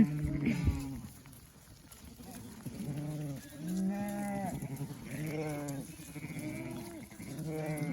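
A ewe bleats repeatedly, several drawn-out calls at a steady pace, close by, while walking her lamb on a rain-soaked farm, the lamb answering amid light outdoor background noise.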